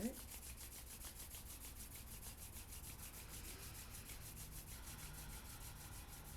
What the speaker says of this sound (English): We'll rub our palms together, create some heat here.